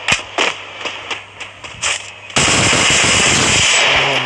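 Gunfire in the mobile battle game Free Fire during jump-shooting play: a series of sharp separate shots for about two seconds, then a loud continuous burst of rapid fire with dense impacts that lasts to the end.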